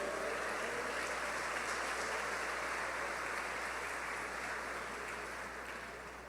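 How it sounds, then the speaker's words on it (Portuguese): Church congregation clapping for Jesus during a sermon, a steady dense wash of applause that holds for several seconds with a low hum underneath, gradually tapering at the end. "dá um aplauso para Jesus"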